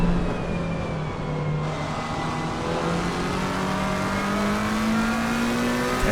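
Race cars at speed on the Zandvoort circuit in 2022, a continuous loud engine drone with slowly rising and falling pitch as cars pass and accelerate, heard without talk.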